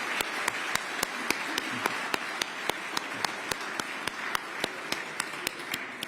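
A room of people applauds for an Air Force Color Guard at a Veterans Day breakfast reception, with steady massed clapping and a few sharp, louder individual claps standing out throughout.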